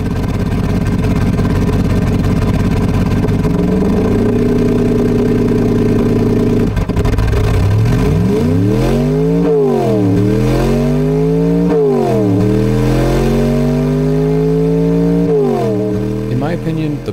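A simulated car engine with clutch and transmission drones steadily, then revs up and down repeatedly through gear changes, the pitch sweeping and falling in loud synthetic cycles.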